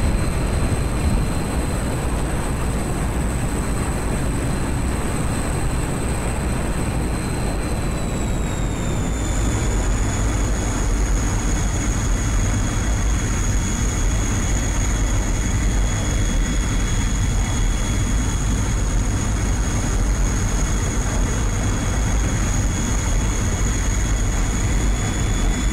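Loud, unbroken jet roar fills a MiG-21 flight simulator cockpit on the downwind leg before landing, with two steady whining tones that dip slightly partway through as the engine settles.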